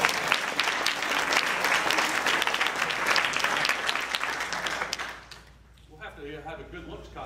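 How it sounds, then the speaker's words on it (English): A round of applause from a small gathering at a pilot winging ceremony, steady clapping for about five seconds before it quickly dies away, followed by a voice speaking in the room. "So come on, a round of applause at least."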